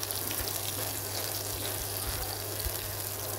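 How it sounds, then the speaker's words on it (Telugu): Curry leaves dropped into hot oil for lemon dal tadka, giving a steady, close crackling sizzle that holds evenly throughout with no talk. "దాని తర్వాత కల్లెమాకు వేస్తున్నా అండి."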